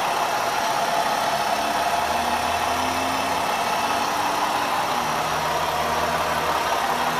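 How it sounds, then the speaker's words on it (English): A 2012 Ford Escape 4x4 Limited's 3-liter V6 idles smoothly and continuously, a steady mid-low engine drone with a constant airy hiss, heard up close with no voices over it. "this one has the V6 engine in it."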